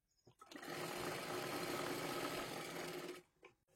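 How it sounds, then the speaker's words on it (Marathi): A sewing machine stitches a size 32 princess blouse in one close, continuous run of rapid whirring lasting about three seconds, then stops. "हे पहा अशा पद्धतीने शिलाई मारून घ्यायची आहे"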